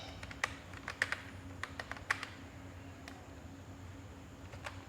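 Typing on a computer keyboard in MS Word, quiet and close, with irregular bursts of clicky keystrokes spread across a few seconds over a low steady hum.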